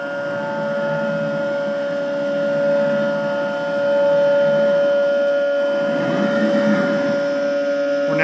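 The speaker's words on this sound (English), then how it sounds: "This machine is currently programmed to run at 475 inches a minute for this program." A MultiCam MG 4x8 CNC router cuts at 475 inches per minute, giving a steady, loud tonal whine with a constant hum; the pitch and grind shift slightly partway through as the toolpath changes.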